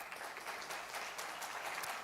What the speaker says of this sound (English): I'd like to ask one more round of applause for Mr.